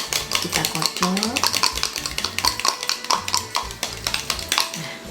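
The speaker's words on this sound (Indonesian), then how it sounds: "ini kita siapkan telur, kita kasih garam sedikit, ini kita coba 1 telur dulu ya, kita kocok" A fork beats one egg with a little salt in a bowl, a fast, steady run of close clinking and tapping against the sides that keeps up without pause, with no voices.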